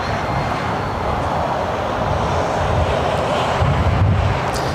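A Delta Airbus A350 jet at LAX airport, a loud, steady broadband engine roar heard from nearby that swells slightly toward the end, with no talking.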